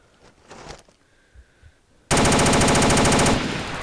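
DayZ video game gunfire: faint distant shots at first, then a sudden loud, sustained rapid-fire burst up close that runs for over a second before easing off slightly.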